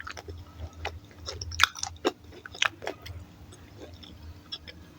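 Crunchy bites and chewing of a homemade chicken wrap with crisp vegetables, close and quiet, a string of sharp crackling crunches over soft steady mastication, with no talk.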